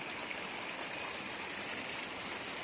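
Continuous rush of two-inch bore well water pouring from a pipe on farmland, an even, close hiss that holds steady throughout with no talk.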